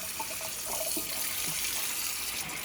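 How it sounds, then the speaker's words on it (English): Warm water runs steadily from a kitchen tap into the tank of a Dyson Power Mop, a soft continuous splashing and gushing close by with no voices. "let's put some warm water in this"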